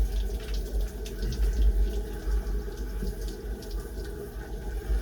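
Water from a tap runs onto hair during a wash-and-go routine on gray hair, a steady, soft, close rush with low splashing, heard on its own without talk.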